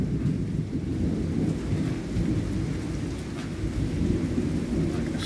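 Steady heavy rainfall in Georgia hisses continuously, with low rumbling thunder rolling underneath throughout.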